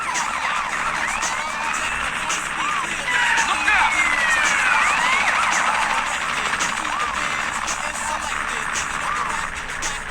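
Police car sirens wail and overlap continuously in the GTA video game during a four-star chase, loud and steady over engine and traffic noise.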